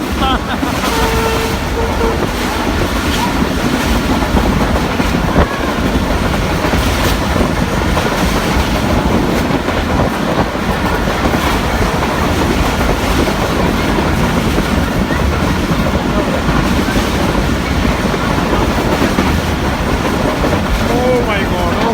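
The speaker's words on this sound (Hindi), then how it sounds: "Very, very fast train, Pakistan." A very fast train passes in Pakistan, a loud continuous roaring rumble with rattling clatter that fills the whole stretch, heard close up with no pause.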